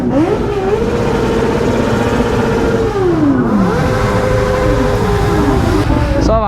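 A Kawasaki Ninja ZX-10R motorcycle engine drones loud and close on a Kathmandu ride, its pitch climbing and dropping through gear changes with wind rush over it.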